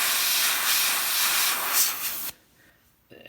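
A rattle-can spray primer hisses in one steady, close burst for over two seconds, aimed straight down onto a miniature for zenithal priming, then cuts off abruptly into near silence with a faint rustle at the end.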